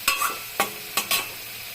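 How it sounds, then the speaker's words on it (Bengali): A spatula stirs fried onions and spices in a pan for egg curry, four quick scraping strokes over a soft sizzle, close and fairly loud with no talking. "এখন আমি মশলাটা অ্যাড করবো, এটার মধ্যে করে একটু নাড়াচাড়া করে চাপা ঢাকা দিয়ে দেবো"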